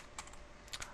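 A few quick keystrokes on a computer keyboard, faint and close, two small bursts of clicks within a second.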